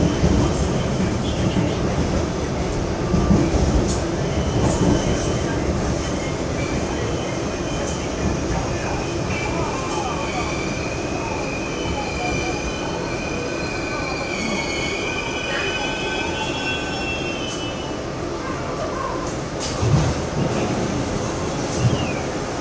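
A commuter train arriving at Santa Clara station rumbles steadily with a continuous metallic wheel squeal rising and falling over the rail noise, heard from inside a car.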